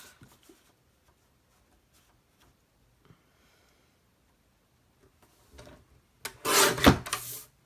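Card stock edges trimmed to size, heard as faint ticks for a while and then a short, loud burst of cutting and scraping toward the end.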